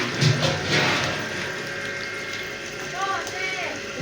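Water splashes while clothes are washed by hand with hot water at home, a continuous wet sloshing with a few louder splashes near the start, under a woman's nearby conversation.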